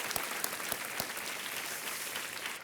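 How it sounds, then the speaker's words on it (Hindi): Studio audience on the KBC quiz show breaks into full, sustained applause, with a few sharper individual claps standing out early on and the sound easing slightly at the end. "हम एक बार फिर ताली बजाएंगे आपके लिए"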